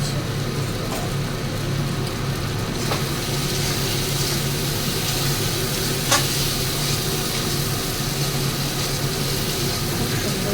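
Spice paste frying in oil for a rohu fish curry, with a constant loud sizzle and bubbling close by, a low steady rumble underneath, and a couple of faint utensil taps.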